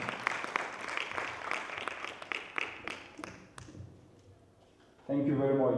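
Audience at a summit applauds to welcome a speaker: scattered, uneven claps in the opening seconds thin out, then a dense, loud burst of clapping swells near the end.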